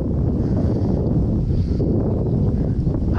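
Strong wind buffets the microphone beside a reservoir, producing a constant loud low rumble with no let-up.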